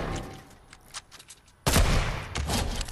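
Gunfire in Fortnite Battle Royale: scattered shots early, then a sudden loud burst of sustained rapid fire.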